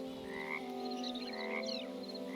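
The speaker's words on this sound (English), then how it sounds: "You're just a frog for a minute." Croaks of a frog from the Hytale video game, heard after the player takes on frog form by drinking a frog potion; a steady, close, tonal croaking with warbling chirps over it and no talk.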